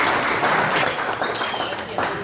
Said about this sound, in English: a round of applause for these two, Tim and Helen Wilkes.